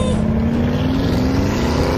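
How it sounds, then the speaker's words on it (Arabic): Car engine revs steadily and loudly as the vehicle pulls away fast, a continuous rising drone with no pauses, close by, with no speech over it. "يلا بسرعة، حرك السيارة، حرك السيارة بسرعة."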